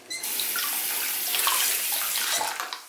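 Water gushes and splashes steadily for a few seconds as orange-tinted water from cleaning a makeup sponge is poured out of a basin, then tapers off at the end.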